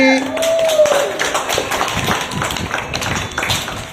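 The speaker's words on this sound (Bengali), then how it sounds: "এই হাততালি" Children's audience clapping at a school magic show in Deshbandhunagar, a loose burst of hand claps over several seconds while voices and a brief whistle-like tone sound in the room.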